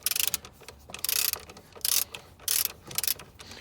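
A ratcheting wrench winds up the tensioning screw on a 2000 Subaru Outback alternator, giving about seven short, crisp clicking bursts in a steady rhythm, close and fairly quiet, with no voices.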